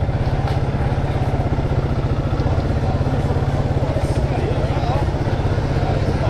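A 2017 Bull Café Race Classic B31 200cc motorcycle engine runs steadily nearby with a rapid, even putter and a low throbbing rumble, unbroken throughout.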